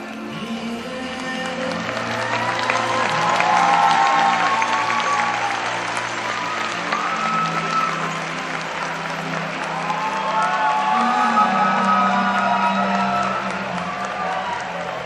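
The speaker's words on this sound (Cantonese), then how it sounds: "我哋再一次用熱烈嘅掌聲歡迎佢哋" Loud, sustained audience applause greets dance teams at the opening ceremony of an international youth dance festival, steady clapping with occasional cheers swelling and holding over fifteen seconds, with faint voices mixed in.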